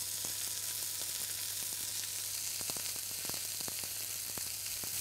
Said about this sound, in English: carefully flip your steak. And again, at this stage, just very lightly press it so you're getting the contact with the hot surface.